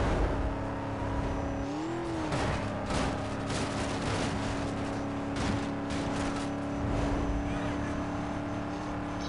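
Ford Mustang engine in the racing game Need for Speed Most Wanted during a police chase, a continuous revving drone that rises and falls, with sharp bursts of noise and clatter over it.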